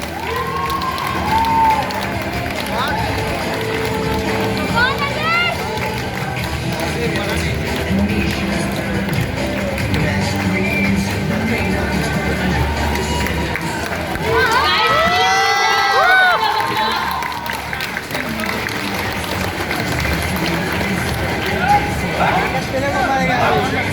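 A crowd at a karate demonstration cheers and claps, with children shouting and excited chatter rising over scattered applause. The noise is loud and busy throughout and swells again near the middle.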